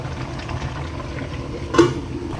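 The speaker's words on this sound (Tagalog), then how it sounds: "Pakuluan muna natin." A pot of coconut milk stew with tuna simmering, a low, steady bubbling murmur with one brief louder splash or clink near the end.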